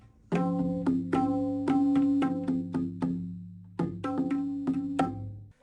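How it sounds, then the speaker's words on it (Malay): Resonant tabla drums played in short rhythmic phrases, with ringing pitched strokes and sharp slaps, close and clear, no voices. "Tabla bunyinya macam ni."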